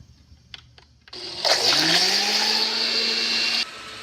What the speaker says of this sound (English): And then you start blending.